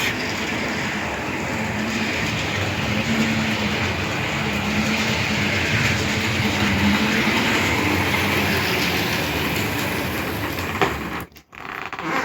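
Toy-scale SM42 locomotive from PKP Energetyka rolling along track, a steady broadband rumble with faint clickety-clack that continues evenly for about eleven seconds before cutting off abruptly near the end.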